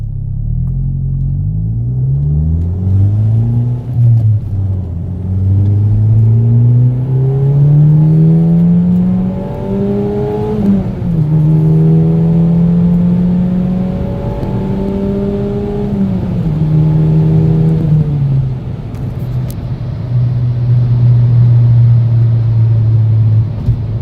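A 2005 VW Golf V GTI 2.0 TFSI engine revs up from a standstill in first gear and accelerates, its pitch rising steadily with a couple of dips as it pulls, loud and close.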